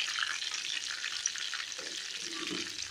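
Mushroom 65 pieces deep-fry in hot oil, a continuous hissing bubble throughout, with a soft stirring scrape near the end and no talking.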